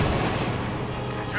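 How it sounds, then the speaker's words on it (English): Rifle squads fire in the Company of Heroes 2 World War II strategy game, producing a short, dense burst of overlapping gunshots and booms, loud and continuous over about a second. "Riflemen. Feuer frei, Friedrich."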